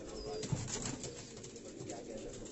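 Sialkoti stuff pigeons in a Karachi loft coo in a constant close chorus, with a brief flutter of wings breaking through the steady murmur.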